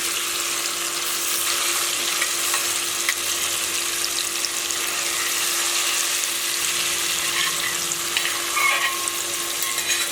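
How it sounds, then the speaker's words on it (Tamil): Paneer frying in a pan for paneer pulao, a steady close sizzle running the whole time with faint spatters and scrapes, no voices. "நம்ம இந்த மாதிரி ஃப்ரை பண்ணி எடுக்கும்போது"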